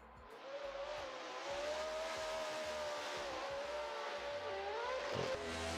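BMW F22 race car engine on track at Tokachi International Speedway, a sustained high whine that holds steady, then dips and rises briefly near the end, heard from a distance.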